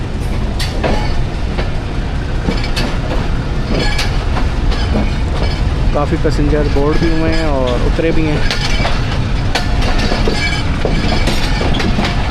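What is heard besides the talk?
130 Down Thall Express train departing Jhamat railway station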